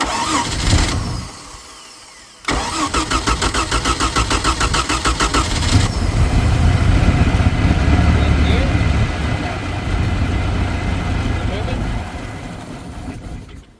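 A 1980s Bronco boat engine cranks briefly, catches and runs with a rough idle, surging and sagging as it struggles to throttle up from fuel starvation, loud and close, with voices speaking.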